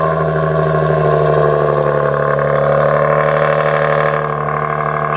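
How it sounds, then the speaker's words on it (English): A deep, steady supercharged Nissan 370Z engine idles at close range, a smooth continuous rumble with a faint rise in pitch near the end. "That is a pretty good sounding car already."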